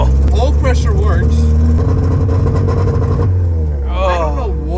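An abandoned, barely running Mazda Miata drones steadily while driving, a low engine and exhaust hum filling the cabin, with voices talking over it.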